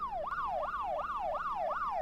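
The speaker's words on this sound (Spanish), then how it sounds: "que avanzaban con las sirenas encendidas" A police car siren wails in fast, repeating rising-and-falling sweeps, steady and fairly loud, with no voices.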